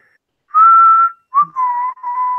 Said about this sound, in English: We get it. You're whistling.